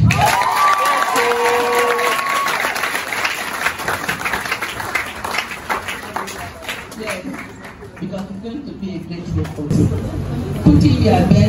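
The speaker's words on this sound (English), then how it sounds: "Please, clap your hands." An audition crowd claps and cheers loudly for about eleven seconds while voices chatter and call out over the noise. The applause fades a little near the end.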